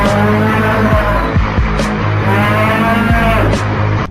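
A cartoon buffalo gives loud, drawn-out moos over a dense, busy comedic soundtrack, with several long bellowing calls running through the clip.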